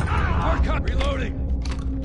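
Weapon reload in Modern Warfare, a short run of mechanical clicks and creaking metal handling over a low steady background hum, close and moderately loud, with voice fragments in the mix.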